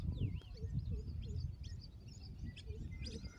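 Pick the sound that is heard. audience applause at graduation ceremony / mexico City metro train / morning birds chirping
morning birds chirping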